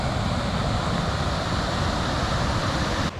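The River Wye flowing past Monsal Head in the Peak District, a steady, loud broadband rush of moving water heard up close, with no talking over it, and the sound dropping slightly right at the end.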